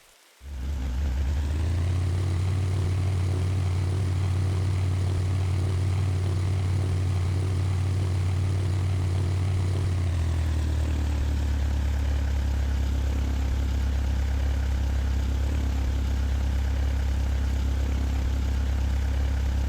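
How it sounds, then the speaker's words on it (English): A light aircraft engine in the PTFS flight-training game starts up and runs at a constant, loud drone, then settles into a lower, steady idle partway through. "please turn your engine on and start pushbacking to the fuel tank"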